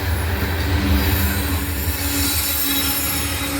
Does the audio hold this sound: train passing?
yes